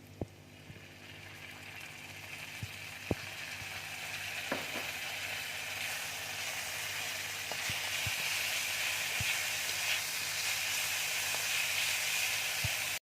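Bell peppers, chopped chilli and other vegetables fry in Schezwan sauce in a hot pan, giving a loud, continuous sizzle punctuated by scattered ticks and scrapes of stirring.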